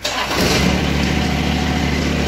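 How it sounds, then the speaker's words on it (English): A John Deere X758 lawn tractor engine starts cold: a brief crank catches and settles into a loud, steady idle right up close. "Cold start."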